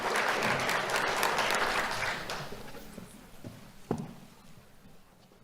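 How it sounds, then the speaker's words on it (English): An audience claps steadily for a young award recipient at a sheriff's office ceremony, dense applause fading out after about two seconds, followed by quieter room noise and a single sharp knock. "Let's have a round of applause for Dwight Jackson."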